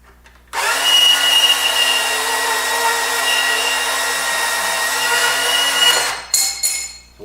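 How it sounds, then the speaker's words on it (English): A Milwaukee power saw cuts through a metal pole with a loud, steady whining buzz lasting about five seconds before stopping, followed by brief clanks and handling noises. "I gotta go look for my Milwaukee, and then I'll cut it"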